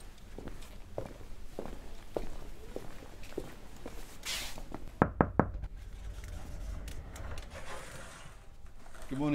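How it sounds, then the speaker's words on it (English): A knock on an office door in a workplace corridor: three sharp raps in quick succession, close and clear, amid footsteps and soft background room noise. "We're going to go and knock on her door and have a look."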